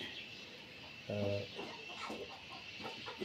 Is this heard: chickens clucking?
yes